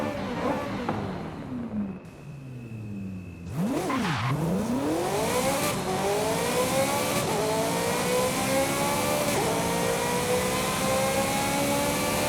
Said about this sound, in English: So this is the Ferrari F355, and it's one of the better sounding cars in this game